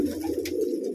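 Perched pigeons coo softly nearby in a single brief low throaty call, with a faint rustle partway through.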